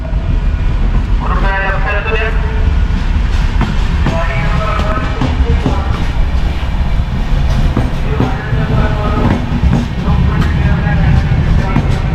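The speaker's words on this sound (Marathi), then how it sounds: "या गाड्या बघा अशा खाली जातात" A Ganpati special MEMU train runs on the Konkan railway from Diva to Chiplun: a loud, continuous rumble and rattle of the carriages on the track, with people talking over it.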